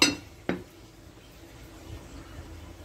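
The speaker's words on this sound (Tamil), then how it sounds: "இப்போ இது மூடி விட்டுடலாம்." A metal lid settles onto a cooking pot of shark fish gravy simmering on a slow flame: two quick metallic clinks half a second apart, then a low, steady background hum.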